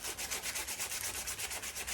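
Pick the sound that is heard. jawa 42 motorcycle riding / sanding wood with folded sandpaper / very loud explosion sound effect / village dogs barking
sanding wood with folded sandpaper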